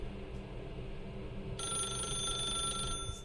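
A telephone rings in The Stanley Parable, a bright electronic trill that starts partway through and holds steadily over a low background drone before cutting off near the end.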